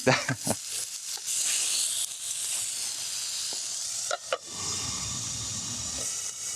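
Burger patty and red onions sizzle on a pan over an outdoor fire in the snowy deep woods, a steady close hiss with a few sharp pops and bumps, alone without talk.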